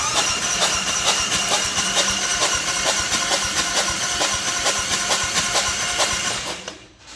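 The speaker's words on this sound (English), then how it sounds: "I've got a little clip here of what the cam chain tensioner was doing when we were cranking the engine." An engine with a loose cam chain tensioner cranks over, a loud rhythmic mechanical chugging with rapid regular clicks and rattles, steady for several seconds before winding down at the end.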